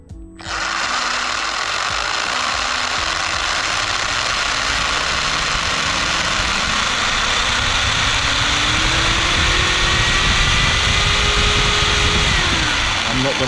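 A Tamiya TT02 RC car running on a 2S battery spins its motor and drive shaft, producing a loud, steady electric whine with a mechanical rattle and a tone that rises and drops again, continuous throughout.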